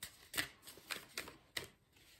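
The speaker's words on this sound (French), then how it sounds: "Avec l'oracle des miroirs. Alors, qu'est-ce qui tombe sur la carte de l'été?" Oracle cards from a mirror-themed deck are shuffled and drawn at close range: a few soft, quick papery riffles and slides, quiet against a hushed room.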